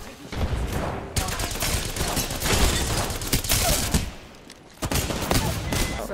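Rapid bursts of gunfire from a first-person shooter match, loud and dense for most of the stretch with brief pauses, firing in volleys rather than single shots.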